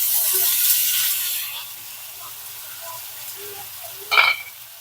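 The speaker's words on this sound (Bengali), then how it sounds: "পেঁয়াজগুলো ভেজে নেব। সাথে রসুন আছে।" Onions and garlic frying in a little oil: a bright, hissing sizzle that is strong at first, then settles into a quieter simmer with a few small pops and one brief clatter near the end.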